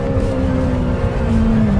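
Lamborghini Temerario engine held at high revs around 10,000 rpm, a loud, sustained, steady high-pitched wail close by, with no talk.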